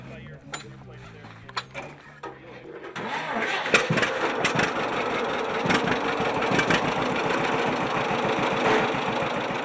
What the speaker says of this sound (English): This is a 1949 John Deere A that was purchased down the street.